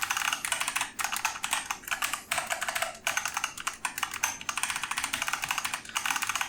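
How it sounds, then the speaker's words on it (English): Rapid, crisp typing on a Massdrop K-Type keyboard fitted with Halo True switches, a dense run of clicky keystrokes in quick bursts, close and clear, with no talking. "So for the sound comparison, I'll go ahead and start off with the new Massdrop keyboard."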